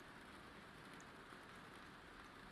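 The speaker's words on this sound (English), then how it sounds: "I had background rain ambiance, and it glitched a little bit" Steady rain ambiance plays as a continuous, even hiss of falling rain with no voices, a constant background wash that shows no clear glitch within this short stretch.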